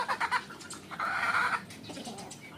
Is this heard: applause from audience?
no